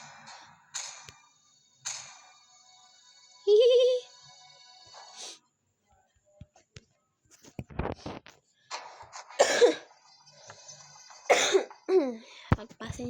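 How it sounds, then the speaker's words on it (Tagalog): A person coughing several times in separate bursts, with short throat-clearing sounds and quiet gaps between, close to the microphone alongside a brief voice. "Pagpasensyahan nyo na guys kung inuubo ako ha"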